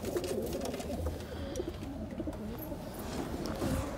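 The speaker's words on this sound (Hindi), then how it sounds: "बताना गाइज आपको ये कबूतर कैसे लगे।" Pigeons coo in a steady low murmur close by, with soft overlapping calls running continuously against a faint outdoor background.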